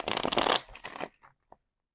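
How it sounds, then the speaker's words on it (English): A short burst of tarot cards being shuffled, a quick ruffling riffle lasting about a second, close and fairly loud, with a few faint taps as it settles into silence. "I'm gonna shuffle. Just a couple more."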